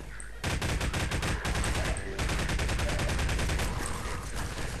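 Rapid bursts of gunfire from the video game Half-Life 2, a dense run of repeated shots filling the whole stretch loudly, with no talk over it.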